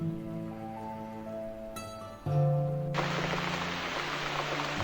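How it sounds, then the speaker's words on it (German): Heavy rain in The Cat Lady video game, a dense hiss of rainfall that begins about three seconds in over sustained low musical tones and a brief tonal swell. "Der Regen fiel und fiel."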